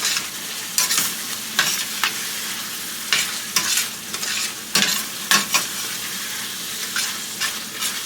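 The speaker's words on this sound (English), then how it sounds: "Let's go ahead and toss that around so it gets nice and mixed into the butter." Salt and pepper get tossed through sizzling butter sauce in a pan, with loud scraping stirs and bursts of frying hiss coming in irregular strokes, close up and alone without any voices.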